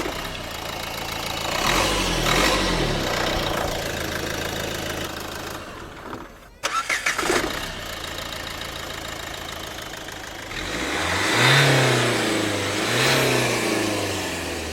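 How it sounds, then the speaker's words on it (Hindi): A Renault Duster with the DCI 110 diesel engine revs steadily in a rough, knocking drone, dips briefly with a few clacks, then climbs into another strong rev, close and without talk. "सबसे पहले लेजेंडरी डस्टर की भाई आवाज सुनते हैं"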